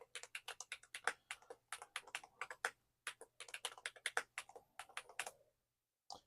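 A password typed on a computer keyboard: quick, close clicky keystrokes in irregular bursts with brief pauses, ending in a couple of isolated taps.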